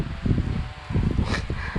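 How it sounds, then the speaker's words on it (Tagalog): Wind gusting outdoors in a garden, blowing as a steady rushing noise with bursts against the microphone and faint rustling throughout, no voices. "Medyo mahangin."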